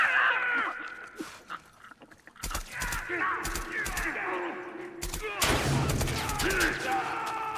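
Repeated gunshots and rapid bursts of gunfire ring out in the video game The Last of Us Part 2, sharp and loud, with a player talking over the shots.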